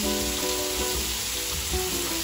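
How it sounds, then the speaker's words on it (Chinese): Blended chillies sizzle in hot oil in a wok while cooking Teochew chilli pork trotter, a steady, close frying hiss running unbroken throughout with faint tonal hum beneath. "热锅放点油，搅刚才搅拌了的辣椒放下去"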